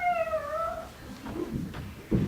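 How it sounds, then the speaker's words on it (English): A black cat named Mosey gives a clear, drawn-out meow that slides downward, then a few softer, shorter cries follow in a quiet room. "she was followed by a beautiful black cat named Mosey."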